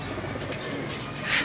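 A racing pigeon kept by a fancier coos softly in a brief low murmur amid faint ambient hiss, with a slight swell toward the end.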